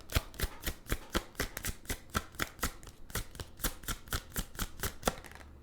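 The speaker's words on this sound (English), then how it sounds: "Let's get one more shuffle." Tarot cards being shuffled in a quick, steady series of crisp riffling flicks, close and fairly quiet, with no voices.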